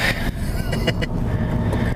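A Mini Cooper S Clubman accelerates, its engine a steady broadband drone heard from inside the car, with a few brief higher tones rising over it.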